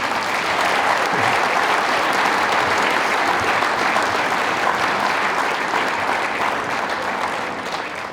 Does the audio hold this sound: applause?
yes